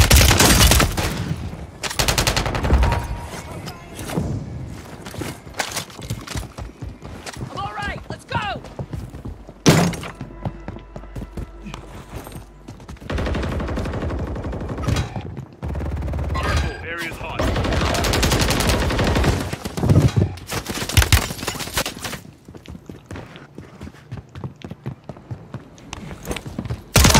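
Rapid SMG gunfire crackles in bursts during a Warzone video game match, with repeated volleys, impacts and short pauses running throughout, under occasional in-game voices.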